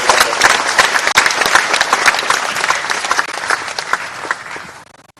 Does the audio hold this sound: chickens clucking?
no